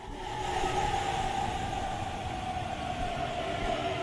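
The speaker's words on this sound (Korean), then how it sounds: "동해 산타 열차가 무코역으로 들어옵니다." The Donghae Santa train, running between Gangneung and Buncheon, rolls into Mukho station with a steady low rumble and a sustained mid-pitched squeal or hum that holds evenly as it approaches.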